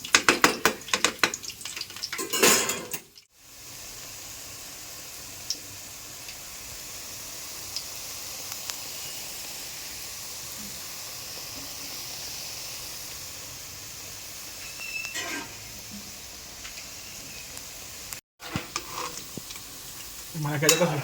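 Onion pakoda deep frying in oil, a long even bubbling sizzle with occasional clatter of a utensil at the start and near the end, close and steady, no speech.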